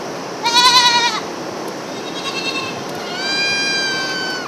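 Goats bleating among a herd of 270 goats grazing overgrown vegetation on steep slopes at Metro's East Base, with a loud wavering bleat up close, a fainter one, then a long sustained bleat over a steady outdoor background.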